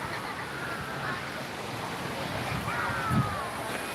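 Steady surf rolls in along a beach in Antalya, a continuous wash of breaking waves mixed with microphone wind noise, with no clear individual crashes.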